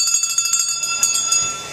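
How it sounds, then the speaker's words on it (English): Chapel bells ring out in a quick run of bright, metallic strikes that fade into a lingering, shimmering hum, heard alone and fairly close. "The bells ring in the chapel"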